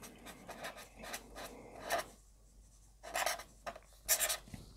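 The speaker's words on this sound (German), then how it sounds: "irgendwas schreiben und malen, so wie man das an der Tafel auch machen würde" A chalk pen scratches across paper in short, busy bursts of writing and drawing, close and fairly quiet, with brief pauses between strokes and no talking.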